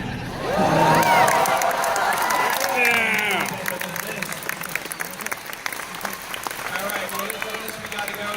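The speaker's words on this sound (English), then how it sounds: "Everybody, a big round of applause for Stan." A comic convention crowd at Dallas Comic-Con bursts into loud applause with cheering and whoops, then settles into steady sustained clapping; voices call out over it early on.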